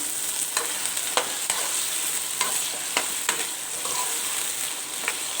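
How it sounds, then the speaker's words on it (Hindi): Bitter gourd frying in oil for a keema, karela and aloo dish, giving a steady bright hiss with intermittent soft clicks and scrapes of stirring, close and continuous with no talk. "बस मैं ये ऑयल में डालूँगी, ऊपर हल्का सा नमक और इनको दम पे रख देंगे"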